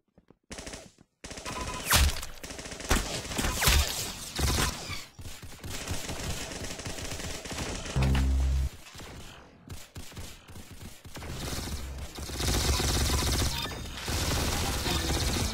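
Rapid automatic gunfire in a first-person shooter video game, loud dense bursts and sustained fire with mechanical weapon sounds across the whole stretch, a brief lull partway through, no clear talk.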